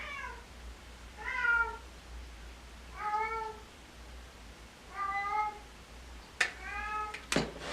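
A cat meows repeatedly, five drawn-out, plaintive calls spaced about every second or two, close and clear over a quiet indoor background with a couple of sharp knocks near the end.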